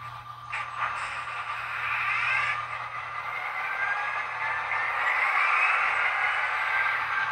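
Startup sounds from a sound decoder in an HO scale Intermountain SD40-2 model locomotive, a steady hissing mechanical rumble with a low hum and gradually rising whine, faint and continuous through a small speaker.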